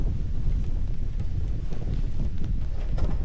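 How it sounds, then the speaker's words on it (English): Strong wind buffets the microphone beside the Curdies River in Australia during a fishing trip, a steady, loud low roar with gusty swells throughout and no voices. "The wind is strong."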